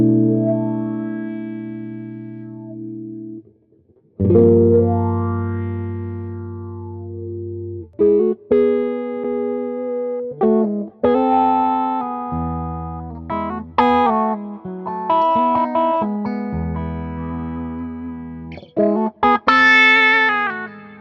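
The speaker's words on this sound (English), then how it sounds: "Let's listen to the sweep and the clean tone of the wah." Clean-toned electric guitar on the neck pickup played through a wah pedal, sustained chords and picked notes swept from dark to bright with audible vowel-like sweeps, close and solo with short pauses between phrases.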